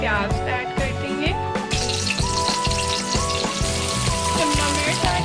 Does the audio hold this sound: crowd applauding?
no